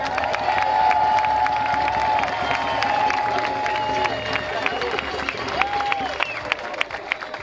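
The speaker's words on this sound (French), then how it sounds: "Applaudissez-le bien fort" Audience at a Montréal professionals' demonstration applauds and cheers for the host taking the stage, sustained clapping with whoops and crowd noise while a voice rings out over it.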